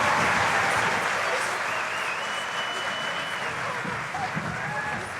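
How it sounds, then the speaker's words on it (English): Sustained applause from a concert audience for an elementary school honor choir, a dense steady wash of clapping that fades slightly over five seconds, with a few voices faintly audible underneath. "One more round of applause for them, please."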